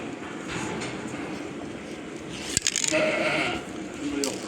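A sheep bleats nearby amid outdoor background noise, with a sharp knock partway through.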